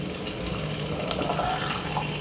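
Red grape juice poured into a blender, a steady close trickling liquid stream that continues without a break.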